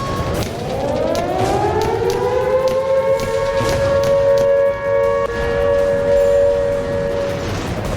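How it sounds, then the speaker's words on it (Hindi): A civil defense siren in Pakistan wails steadily, its tone rising and then holding a long sustained pitch over background noise. "पाकिस्तान ऐसा डरा हुआ है कि पीएम शहबाज ने खैबर पख्तूनख्वा के 29 शहरों में सायरन लगवाने के आदेश दे दिए हैं।"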